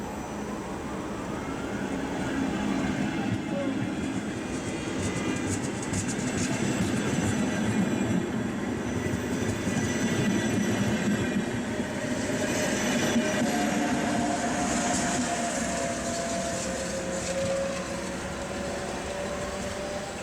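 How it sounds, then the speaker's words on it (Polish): A service train pulls into a station platform in Poland on a cold winter day, making a steady, loud rumbling roar with wheel and rail noise that lasts the whole stretch without a break. "Uwaga, na tor 23 przy peronie trzecim wjedzie pociąg służbowy."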